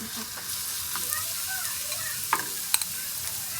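Ground pork being stirred into garlic frying in a pan, a constant moderate sizzle with a couple of sharp utensil clicks against the pan.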